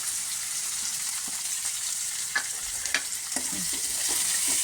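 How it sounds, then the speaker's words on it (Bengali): Chopped onion, garlic and ginger frying together in oil in a pan, a soft continuous sizzle broken by several spatula scrapes and taps as they are stirred. "এবার এতে দিয়ে দিচ্ছি পেঁয়াজ কুচি, রসুন কুচি, আদা কুচি সব একসঙ্গে দিয়ে দিলাম"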